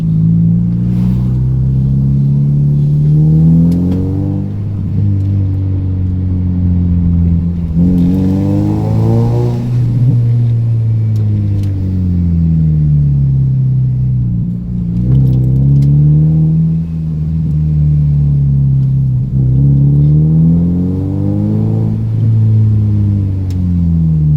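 A car engine revs and rumbles in a crowded little village, its throaty drone rising and falling in several swells across the whole stretch, loud and close throughout.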